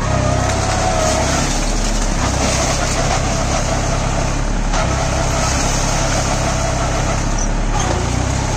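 A New Holland 4710 4WD tractor on cage wheels, driven with one-side brake applied, gives a loud, steady diesel engine drone that continues throughout, close by and with no talk.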